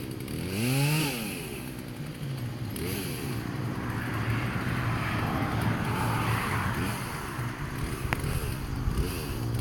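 A chainsaw cutting up a tree drones steadily at a distance, its engine revving up and down while cutting, continuous throughout with no voices.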